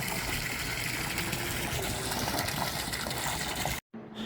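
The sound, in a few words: submersible pump water flow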